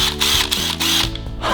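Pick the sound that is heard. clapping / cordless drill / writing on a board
cordless drill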